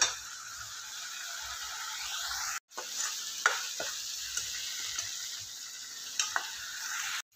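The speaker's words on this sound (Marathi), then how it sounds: "आपण कच्च्याच कांद्याची पेस्ट केली आहे, आपल्याला आता तेलातच भाजून घ्यायची आहे ही।" Raw onion paste sizzles steadily in hot oil for pav bhaji. The close, continuous frying hiss is broken by a brief silence partway through and scattered stirring clicks and scrapes.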